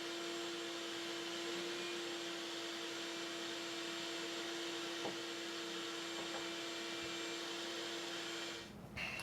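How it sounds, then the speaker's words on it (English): A shop vac runs steadily and close by with a constant whine, picking up sanding dust from cherry wood pieces, a couple of light knocks of the nozzle over the drone before it cuts off near the end. "just pick up the shop vac and suck up all the dust"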